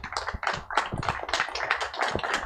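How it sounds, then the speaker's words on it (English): Small audience clapping for four speakers at a talks event, a steady patter of hand claps lasting throughout, moderately close and without voices. "A round of applause for them"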